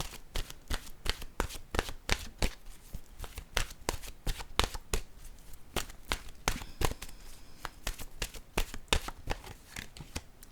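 Oracle cards shuffled by hand in a steady run of crisp riffling slaps and flutters, close and fairly quiet, with no talking.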